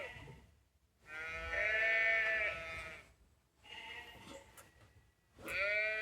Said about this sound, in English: I might go see if that's the sheeps